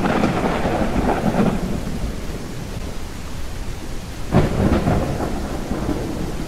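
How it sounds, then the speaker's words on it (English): Thunderstorm in the video game SurrounDead: steady heavy rain hisses throughout while two deep rolls of thunder rumble, one at the start and a sharper crack later, loud and without talk. "Freaking lightning."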